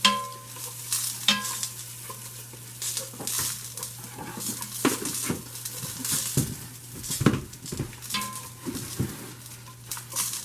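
Cheesy mac and cheese sauce bubbles gently in a pot while a whisk or spoon scrapes and stirs it in steady, repeated strokes, close and clear with no talking.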